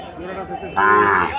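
A heifer calf at a Comilla cattle market lets out a loud, close moo that swells and holds in its final half, over a low murmur of market background.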